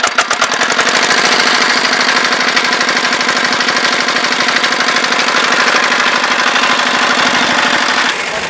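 Hand-cranked diesel engine on a small nano tractor running loud and close, a fast, even knocking chug that stays steady throughout and eases slightly near the end.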